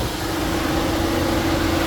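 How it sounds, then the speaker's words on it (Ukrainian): 2004 Volkswagen Golf with a 1.4 petrol engine idling, a steady, smooth low hum with a faint constant tone and broadband whir, close and even throughout. "працює наш двигунчик, не сіпається, рівненько"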